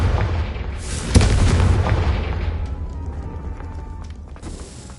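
A Confringo spell blast in Hogwarts Legacy on PS5 lands as a deep booming burst about a second in, then rumbles and fades over several seconds into a low, quieter tail, with no voices.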